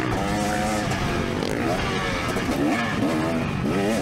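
A 2024 KTM 300sx two-stroke dirt bike at Albany MX Park idles up a motocross jump, its steady buzzing engine warbling gently in pitch, loud and close, with wind noise throughout.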